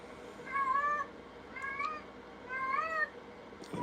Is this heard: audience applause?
no